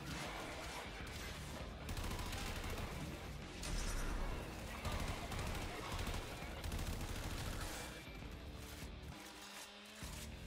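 Sustained gunfire in Warframe 1999, dense rapid volleys and bursts over a long stretch with game ambience underneath, a voice talking intermittently over the shooting.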